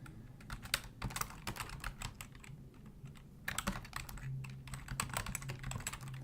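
Steady bursts of quick keystrokes on a computer keyboard as a curl command is typed during router configuration, close and clear, with short pauses between runs of keys and no talking.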